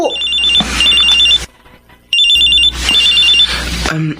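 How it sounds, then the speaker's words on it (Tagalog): A cellphone rings loudly with an incoming call, two long repeating bursts of electronic trilling broken by a short gap, heard alone up close. "May tumatawag sa cellphone ko."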